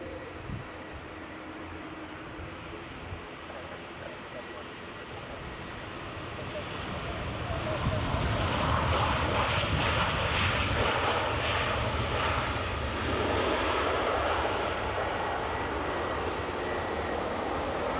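A Brussels Airlines jet at Edinburgh Airport sends a broad, steady engine roar that swells about halfway through and then holds loud and sustained, heard from a distance in damp outdoor air.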